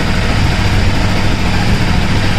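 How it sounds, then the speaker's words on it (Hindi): A Honda CBR motorcycle engine idles steadily and loudly throughout, a continuous low rumble with no break or change in pace. "सिर्फ इग्निशन को दबाना होगा और बाइक को स्टार्ट करना होगा"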